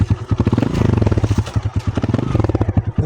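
A motorcycle engine runs loud and close, with a steady, fast, throbbing pulse and some rattly clatter throughout.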